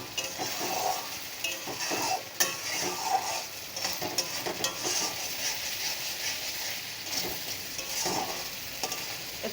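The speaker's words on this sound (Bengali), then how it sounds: "মশলাটা কষানো হচ্ছে। মশলাটা এরকম সুন্দর করে কষাতে হবে" Spice paste for a posto dish with potol (pointed gourd) sizzles and fries in oil while a spatula stirs and scrapes the pan steadily, close and continuous, with no talk.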